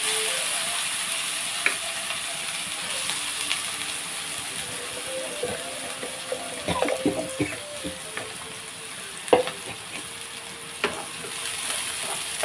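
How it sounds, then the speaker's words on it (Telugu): Onions and green chillies fry in well-heated oil, giving a steady close sizzle with occasional stirring clinks and scrapes in the pan and no talking. "ఇదిగోండి ఉల్లిపాయలు, పచ్చిమిర్చి వేసుకుంటున్నాను. ఆయిల్ బాగా హీట్ వచ్చింది కదా,"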